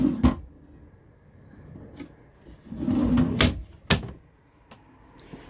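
Campervan drawers on a Renault-based Ahorn Van 620 Eco are slid open and shut, giving several sharp knocks and thuds with softer sliding rustles between them, close up and with no talk.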